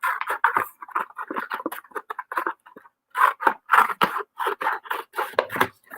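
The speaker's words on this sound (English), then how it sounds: "So I just cut that paper plate into two" Scissors cut a paper plate in half with a rapid series of crisp snips and crunching paper, close and clear, pausing briefly midway before resuming.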